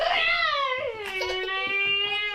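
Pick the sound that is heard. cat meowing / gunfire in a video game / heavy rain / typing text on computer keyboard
cat meowing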